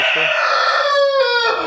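A rooster crows once inside a chicken coop, a loud, close call with a rising then sustained tone lasting over a second.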